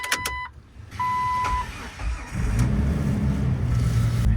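A Jeep recovered after theft is cranked and started for the first time in a while, with short electronic chimes first, then the engine catching and settling into a steady, close idle.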